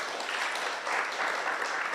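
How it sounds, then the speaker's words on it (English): Audience at a research report launch event applauding, a dense steady wash of clapping from many hands filling the room without pause. "A round of applause for Dr."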